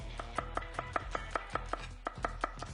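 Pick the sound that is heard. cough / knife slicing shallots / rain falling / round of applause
knife slicing shallots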